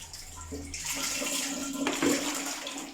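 Warm water poured over a newborn baby during a bath, a steady splashing gush that swells and shifts as the stream moves, with no talking.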